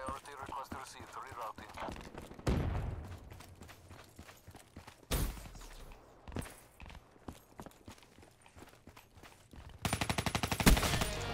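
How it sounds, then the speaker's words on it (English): Gunfire in Black Ops 3 hardcore free-for-all multiplayer, sharp shots and rapid bursts with footsteps and game noise, mixed under a player's talk. "Wow, that shooting was terrible."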